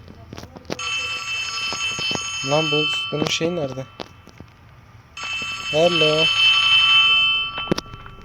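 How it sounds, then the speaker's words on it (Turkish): In the mobile version of Poppy Playtime Chapter 3, a telephone rings in two long bursts of bright, shrill trilling, each lasting a few seconds and fairly loud, while someone talks over it. "Telefon çalıyor."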